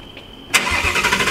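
Cold start of a 2020 Ford Mustang GT with a Roush axle-back exhaust and no active exhaust: near-silence, then a sudden loud engine catch at about half a second that settles into a steady, rumbling idle.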